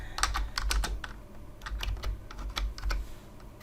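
Quick, irregular keystrokes on a computer keyboard while text is typed into a PowerPoint slide, clicking close and clear with short pauses between bursts and no voices.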